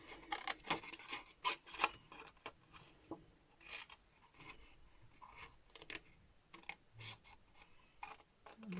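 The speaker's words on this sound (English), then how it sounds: "And I'm back to cutting, but I'm only going to cut one of the candles out." Paper is cut with scissors to shape a candle for a handmade card, giving a close, quiet series of irregular snips and rustles.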